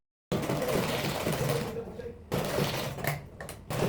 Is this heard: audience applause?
no